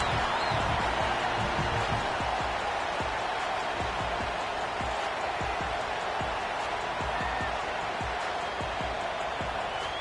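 Stadium crowd at a college football game between the Aggies and North Carolina: a dense, steady roar of many voices, loud and continuous throughout with no clear peaks.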